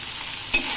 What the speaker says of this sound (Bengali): এখন ভালো করে এটা নেড়ে চেড়ে ভেজে নিতে হবে।